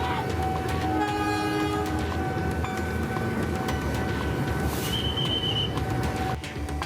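Long-distance train rolling through a level crossing at Pasar Senen station in Jakarta, a loud continuous rumble of railcars with steady tonal horn or warning-bell lines sustained throughout and a brief brighter squeal near the end.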